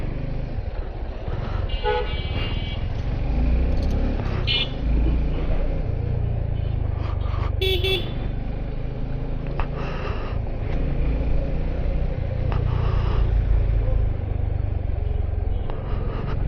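Car horns honk repeatedly, in short toots and longer blasts, over the steady low rumble of engines in a Bangladeshi road traffic jam heard from a motorbike, with no talking.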